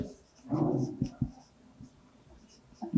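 Chalk taps and scratches on a classroom board as a sentence is written, in short close strokes with faint talk nearby.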